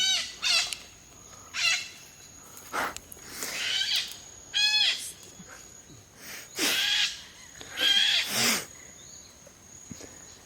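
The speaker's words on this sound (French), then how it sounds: "That's cockatoo bird." A cockatoo calling loudly: harsh, raspy screeches come in about six separate bursts over ten seconds, close and prominent with no talk.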